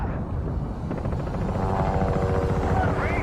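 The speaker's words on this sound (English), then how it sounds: "Get on the chopper!" A helicopter in Call of Duty DMZ sends out a loud, close, steady rotor thump and engine whine that builds over a few seconds.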